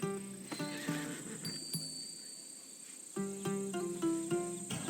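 A horse whinnies in Assassin's Creed Odyssey, bright neighing bursts over a steady bed of cricket chirps and soft hoof clops, fairly quiet with repeated tonal calls across the clip.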